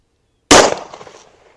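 A single sharp, loud handgun shot fired into ballistic gel, an abrupt crack that decays quickly into a short echoing tail.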